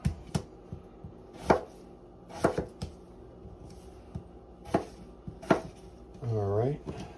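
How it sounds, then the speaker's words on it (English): A knife chops through firm potatoes on a board in sharp, irregular knocks, close and fairly quiet, with a brief hum-like noise near the end. "now that we have our potato all chopped up"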